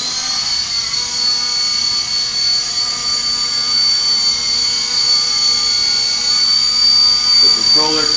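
A Novus FP200 RC helicopter, a small electric model, whirs steadily and loudly as it takes off and hovers, its high rotor and motor whine holding constant throughout, with a few soft thumps near the end.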